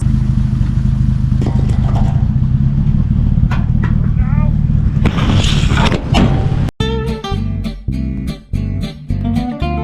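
Engine noise of a 1950 Dodge Meadowbrook, a steady low rumble running close and loud, with clatter and a voice over it, then it cuts off abruptly into a different section with music.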